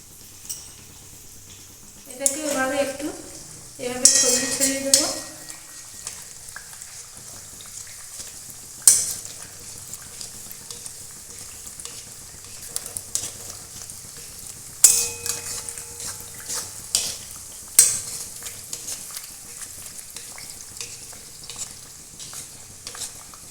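Lachcha semai dough fries in oil in a pan, a low sizzle broken by scattered clinks and scrapes of a utensil against metal, with a brief murmur of voices early on.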